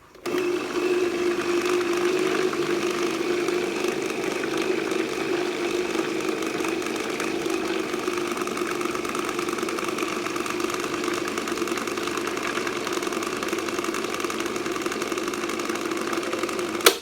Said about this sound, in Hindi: मोवा फ्लावर को हम करते हैं ग्राइंड